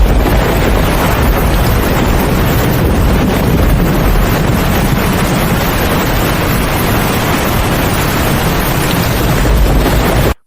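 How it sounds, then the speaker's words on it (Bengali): A strong, roaring wind blows without a break through a stormy cartoon scene, loud and close with a gusty rumble, then cuts off abruptly at the end. "মুহূর্তের মধ্যেই জোর বাতাস শুরু হয়, গাছের ডালপালা কাঁপতে থাকে।"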